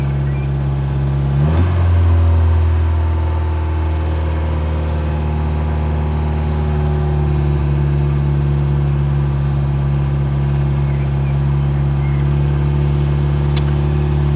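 A 1975 VW Passat mk1 (type 32) engine runs steadily after standing a long time, a loud continuous close drone with a brief rev near the start, then settling into an even idle.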